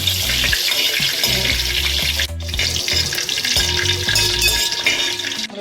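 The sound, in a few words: cumin seeds frying in hot oil for prawn curry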